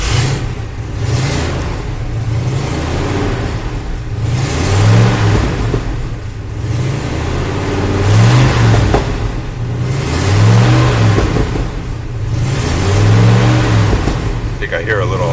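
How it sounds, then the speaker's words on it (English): An old car's engine revs up and drops back again and again in a regular rhythm, loud and close, with a possible small exhaust leak adding to the steady mechanical roar. "I think I hear a little exhaust leak."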